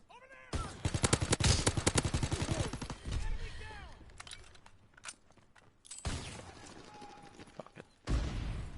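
Thompson submachine gun fire in Call of Duty WWII: loud, rapid automatic bursts up front, then scattered shots, impacts and battlefield clatter, with a second heavy burst near the end.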